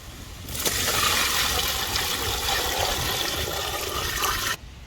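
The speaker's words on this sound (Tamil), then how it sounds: "இப்போ தேவையான அளவு தண்ணி ஊற்றிடலாம்ப்பா." Water pours steadily into a cooking pot of vegetable biryani for a birthday food offering, a loud continuous splashing rush that starts abruptly, holds for about four seconds and cuts off.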